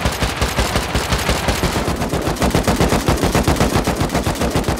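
Rapid automatic gunfire in the survival game Rust, a loud, sustained string of evenly spaced shots in quick rhythm, heard alone without talk.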